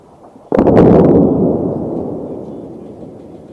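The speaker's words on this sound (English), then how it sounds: "So a new airstrike in Beirut. You just saw it." An airstrike explosion in Beirut lands as one sudden, heavy blast with a sharp crack at the onset. A deep rumble follows and fades slowly over several seconds, loud and alone with no voices.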